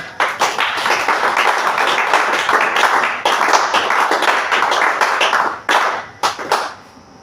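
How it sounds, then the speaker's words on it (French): A church congregation claps and applauds in praise of the Lord, a dense, loud, continuous burst of many hands lasting several seconds before thinning into a few scattered claps at the end. "Est-ce qu'on peut acclamer le Seigneur?"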